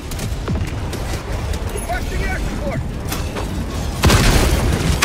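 Booming explosions and rumbling blasts in the video game Helldivers 2, including an autocannon turret, fill the clip, with a louder burst near the end over constant noisy background.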